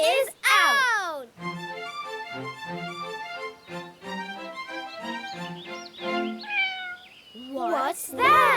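Toy cat meowing in a pretend-play firefighter scene, with long sliding meows at the start and end framing a child-like voice talking and singing in between, all close and clear.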